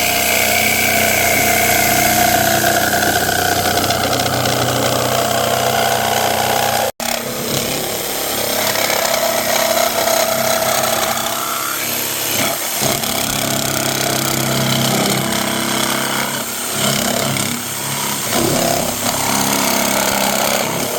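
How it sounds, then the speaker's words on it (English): A jigsaw cuts a wooden circle freehand for a homemade pulley, its loud, steady buzzing rasp running nearly continuously with one brief stop partway through. "now I have a circle that I freehand jigsaw out"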